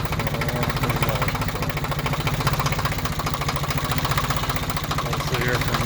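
A Ford 1910 compact tractor engine idles low and steady after a cold-weather startup, a continuous close rumble with faint rhythmic knocking throughout.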